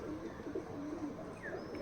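Giribaz pigeons coo softly and low in a faint, continuous murmur, a few rolling coos close together without any talking.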